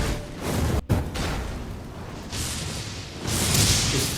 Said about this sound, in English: just me practicing my aim with the jar cannon